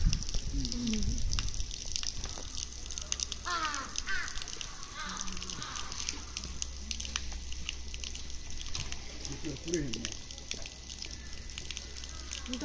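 Crows caw at a bear park in Noboribetsu, Hokkaido, with a few harsh calls scattered through steady outdoor background noise and splashing water, while people chat nearby.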